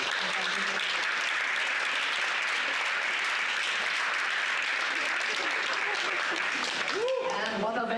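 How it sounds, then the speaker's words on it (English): Sustained audience applause fills a hall at a student integration competition in Vienna, dense steady clapping for about seven seconds before a voice begins speaking near the end. "Please round of applause to them."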